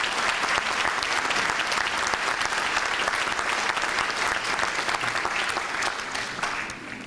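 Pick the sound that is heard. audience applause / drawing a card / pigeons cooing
audience applause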